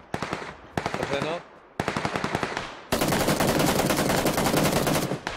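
Rapid automatic gunfire in the video game PUBG Lite, several loud bursts of close shots with brief gaps, then a sustained dense volley of firing, with no talking over it.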